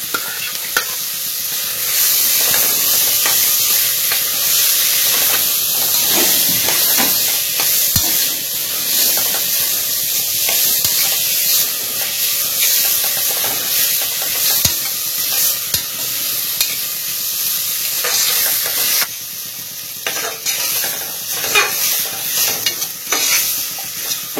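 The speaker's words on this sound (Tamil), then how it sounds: "அடுத்து வந்து முள்ளங்கியை போட்டு வதக்கலாம்" Radish sautés in a pan for sambar, a loud, steady sizzle and hiss running throughout with frequent spatula scrapes and stirring clatters up close.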